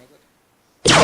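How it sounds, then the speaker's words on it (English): A laser firing effect in an augmented reality game: near silence, then a single loud, sudden bright blast bursting in at the end and holding full strength. "I want to play a laser firing sound"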